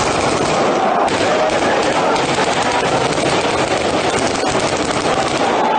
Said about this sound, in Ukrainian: Почали стріляти.